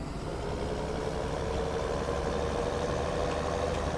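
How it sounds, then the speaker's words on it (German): A farm vehicle engine in Landwirtschafts-Simulator 17 runs at a steady idle, a constant low rumble close by with no talk over it. "Machen den Motor an."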